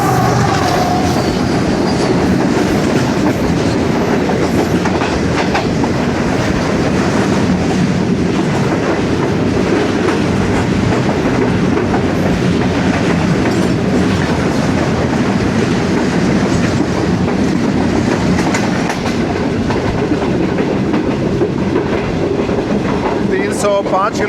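Pakistani passenger express train running on main line 1 between Lahore and Karachi, heard from inside: a steady loud rumble with rhythmic clickety-clack of wheels over rail joints throughout, continuous and close.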